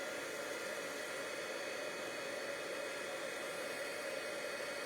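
A heat embossing tool blows hot air onto a stamped card with a steady, even whoosh like a small hair dryer. The sound is faint and continuous, with no talking.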